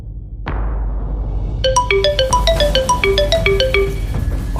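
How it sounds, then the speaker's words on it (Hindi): A phone ringtone plays a bright, repeating electronic melody of quick descending notes that starts right after a sharp thump and keeps going loud and clear, with no one speaking. "आदि सर का फोन है, मुझे अटेंड करना पड़ेगा।"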